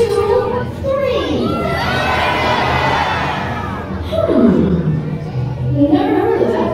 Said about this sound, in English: everyone yell out where you're from on the count of three